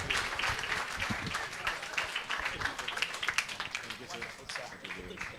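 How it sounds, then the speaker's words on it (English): An audience at an HR summit applauds a panel, a steady dense patter of clapping that holds throughout, mixed with murmuring voices. "A big round of applause for all the panelists"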